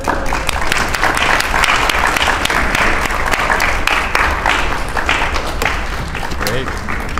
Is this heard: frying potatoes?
no